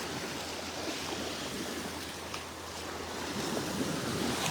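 Ocean surf breaking on a beach at Delnor-Wiggins Pass State Park, a continuous broad wash of waves with wind noise, no voices.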